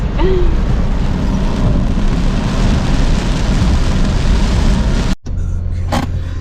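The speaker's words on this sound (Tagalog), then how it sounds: "Grabe, lakas sa ulan guys" Heavy rain drumming loud and steady on a vehicle on a road trip in Bicol, a dense continuous roar with engine rumble underneath, briefly cut near the end.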